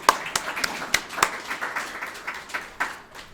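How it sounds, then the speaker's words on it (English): Scattered applause from a small audience at a Physicians for Social Responsibility health awards presentation, sparse individual claps rather than a dense roar, steady for a few seconds at moderate volume. "So please, applause to each of you for your great work."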